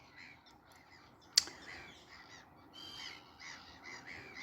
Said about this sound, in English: It is mostly blackheaded gulls because they're obviously established on there.